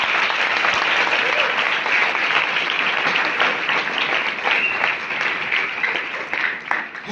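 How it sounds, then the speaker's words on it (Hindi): A church congregation at a pastor's service in Karachi, Pakistan claims loudly and continuously for about seven seconds, a dense crowd applause that stays strong throughout and fades slightly at the end. "Clap for Jesus."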